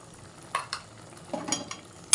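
Spoon stirring a banana flower curry with sugar in a pan, with a few soft scraping strokes and light clinks against the metal set over a faint sizzle, close and quiet with no talking.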